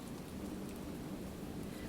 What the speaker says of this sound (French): le vent a attiré la pluie et rapidement, les deux compagnons sont trempés